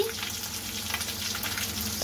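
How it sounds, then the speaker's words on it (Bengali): Tengra catfish that have just been flipped in a wok of hot oil keep frying with a continuous close crackling sizzle, softer than before, with no talking. "মাছগুলোকে এখন উল্টিয়ে দিয়েছি।"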